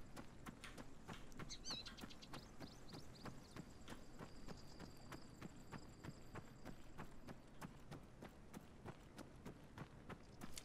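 Horse hooves clip-clop steadily through a video game scene, a quick even rhythm of light knocks running the whole time at moderate level over a soft ambient bed.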